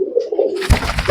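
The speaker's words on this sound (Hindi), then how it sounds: "ये कबूतर" A pigeon gives a soft, low, rolling coo up close, then wing flutters and scuffling noise take over.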